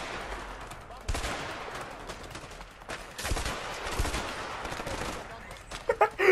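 Gunfire in the video game A Way Out, several loud bursts of shots fired from a distance, with rapid cracks clustered at intervals over a continuous game background.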